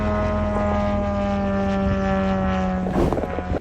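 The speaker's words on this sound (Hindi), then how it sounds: "उधर यूक्रेन के आसमान में शाहिद ईरानियन ड्रोन उड़ते हुए नजर आ रहे हैं।" Iranian Shahed drones fly over Ukraine with a loud, steady, droning propeller buzz, and a brief rustling burst near the end.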